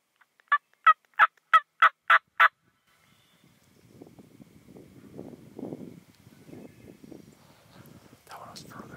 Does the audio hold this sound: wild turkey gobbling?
yes